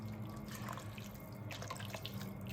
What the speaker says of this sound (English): I'm going to just pop in a bit more broth because the meat is quite exposed on top.